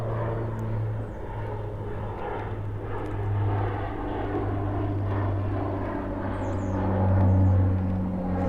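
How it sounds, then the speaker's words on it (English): A float plane taking off near a hawk eagle nest at sunrise, its propeller engine a steady low drone that swells and fades as it passes, with faint birdsong high above. "that's a float plane just taking off"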